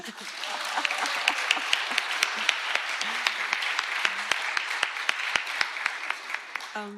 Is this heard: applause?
yes